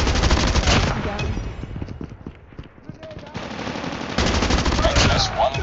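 Rapid SMG bursts rattle in the Call of Duty Mobile shooter game, loud dense automatic fire coming in clusters with a brief lull in the middle, then resuming strongly, with game voices mixed in.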